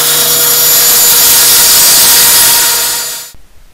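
A power saw rips steadily through wood, cutting straight lines in one continuous loud, bright whine with no talking, then stops abruptly near the end.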